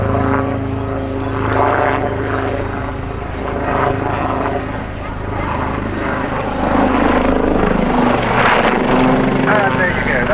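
A helicopter rolls at the 2013 Cosford airshow, its rotor and engine a loud, steady throbbing drone that surges slightly as it maneuvers, with a commentator talking over it throughout.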